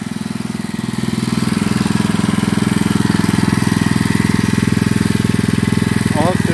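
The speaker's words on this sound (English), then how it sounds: "This carburetor runs fine. And it's still running, the gas is off." A small engine fitted with a new carburetor keeps running after its fuel has been shut off, a loud, close, rapid and steady putter with even firing pulses and a brief higher rattle near the end.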